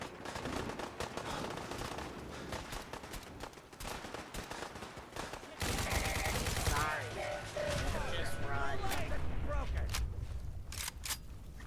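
Gunfire and automated turret fire in Fallout 4, dense and continuous, with bursts rattling through the whole stretch and growing heavier and louder partway through, while a voice talks over the shooting at times.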